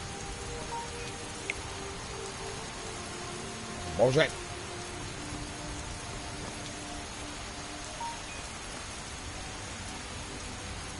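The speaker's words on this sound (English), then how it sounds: "why's it gotta be like raining and shit as soon as I gotta head out" Steady rain in the video game Skyrim, a soft continuous hiss of falling drops holding through the whole stretch, interrupted once by a short loud thud and by a man cursing over it.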